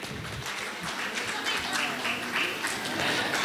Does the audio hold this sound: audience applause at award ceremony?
yes